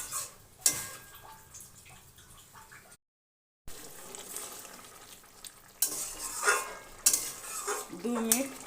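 A vegetarian ridge gourd curry is stirred in a pan, with scraping and clinking of a utensil against the metal and a soft sizzle. The sound breaks off briefly in the middle and then returns with busier stirring.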